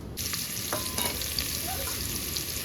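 Ginger and onion dropped into hot oil with asafoetida give a steady, close, loud sizzle that crackles on evenly throughout, with a few faint utensil clinks and no talking.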